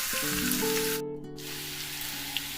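Large green capsicum sautéing in a hot pan, giving a steady, close sizzle that drops out briefly midway before resuming, with faint tonal ringing underneath.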